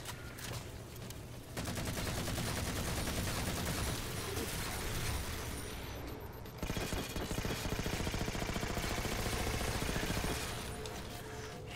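Rapid, sustained gunfire from a light rifle in the video game Halo 4, dense continuous bursts close and loud, dropping out briefly near the start and again mid-way before resuming.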